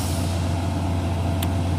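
A concrete truck arriving at a pole barn build site, heavy diesel engine rumbling steadily and loud throughout, with a brief hiss of air brakes near the end.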